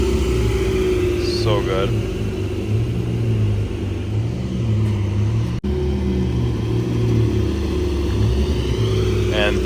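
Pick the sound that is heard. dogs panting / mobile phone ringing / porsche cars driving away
porsche cars driving away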